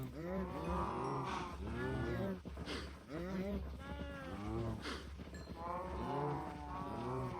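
Cows in Minecraft moo repeatedly during a cattle-breeding session, with several overlapping lowing calls coming one after another without a break, fairly close and steady.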